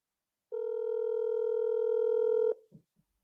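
Phone ringing over a loudspeaker: a single steady electronic tone held for about two seconds, loud and clean, then cut off with a few faint clicks after.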